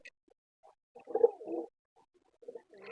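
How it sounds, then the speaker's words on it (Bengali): Large Sirazi pigeons coo in a few soft, low, throaty bursts, the strongest pair mid-way and a couple of quieter calls near the end, with short silent gaps between. "এটার অবশ্য সিরাজি কবুতর যেহেতু অনেক বড় সাইজের কবুতরগুলা"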